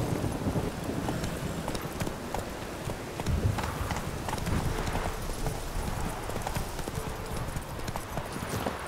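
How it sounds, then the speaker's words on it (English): In The Witcher 3 a horse's hooves clip-clop in a steady, continuous rhythm, loud and close, over light wind noise with no talking. "So let's call the horse."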